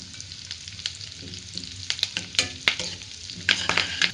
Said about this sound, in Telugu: ఇవి కొంచెం వేగిన తర్వాత కరివేపాకు